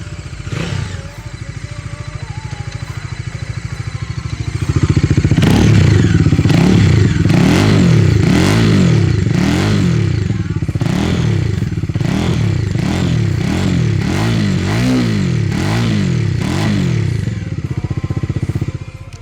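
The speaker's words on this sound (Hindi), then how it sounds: "चलो अब इस मोटरसाइकिल को ज़रा स्टार्ट करके तो सुनाए, इसकी आवाज़ तो सुनाए आप लोग को" A 2022 Bajaj Dominar 400 motorcycle is started and idles with a rapid, loud, close thump, then its engine is revved repeatedly in rising and falling bursts that continue to the end.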